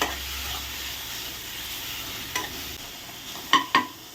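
Onion and tomato sautéing in a pan for Thanjavur mutton curry, a soft steady sizzle followed by a couple of brief sharp clinks from a stirring utensil.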